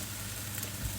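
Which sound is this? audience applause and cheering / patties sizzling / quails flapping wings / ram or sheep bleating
patties sizzling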